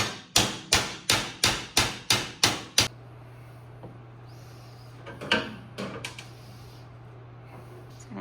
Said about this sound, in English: So I'm just gonna knock it in a little bit for now.